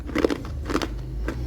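Crunchy sweet purple sweet potato chips are bitten in three sharp, close crackling crunches spaced apart, with quiet pauses between them.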